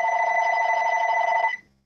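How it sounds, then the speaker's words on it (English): A telephone bell rings in one continuous, loud, close trill that stops abruptly, heard alone without voices. "that's a phone call"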